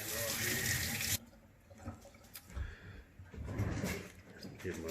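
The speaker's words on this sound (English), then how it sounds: "Rinse my hand off" A tap runs hard as a hand is rinsed under it, a loud rushing splash for about a second, followed by quieter clatter and handling sounds.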